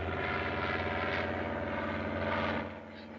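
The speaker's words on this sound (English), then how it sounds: "It's only an airplane." A propeller airplane from a 1938 film drones steadily overhead, a loud, continuous engine hum with a low throb that eases off near the end.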